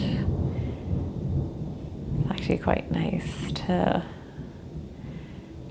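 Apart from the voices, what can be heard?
thunderstorm with thunder and rain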